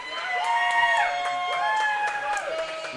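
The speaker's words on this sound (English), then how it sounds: "More cheering." Football crowd cheering at a FIFA World Cup 2026 match between Mexico and Czechia, a steady roar of many voices with whistles and shouts rising and falling, a live broadcast wash heard from a distance.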